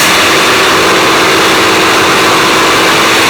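The radial engine of a Harvard aircraft drones during the climb, a loud, steady, continuous roar filling the cabin with no breaks.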